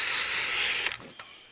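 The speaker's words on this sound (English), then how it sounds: "We gonna spray paint here." Spray paint hisses in the video game Fortnite, one steady, loud, airy burst that stops abruptly, followed by a couple of faint mechanical clicks.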